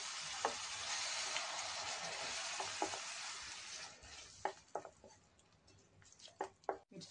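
Tomato puree sizzles in a hot pan as it is stirred through rice, a steady frying hiss with soft scraping strokes and a few sharper clicks of the spoon near the end.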